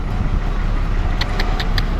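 A Kelshi–Mandangad bus engine rumbles loudly and steadily close by as it passes, with a few quick high ticks near the end.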